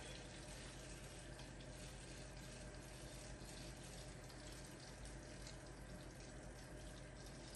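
Tap water runs steadily into a sink while bottles are washed for bottling sorrel juice, a continuous close rushing flow with no talking.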